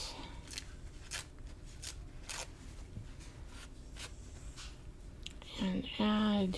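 Scissors snip through teabag paper in a series of short crisp cuts, with a voice briefly speaking near the end.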